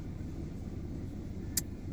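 Inside a moving car, a steady low road and engine rumble fills the cabin, with one brief sharp click partway through.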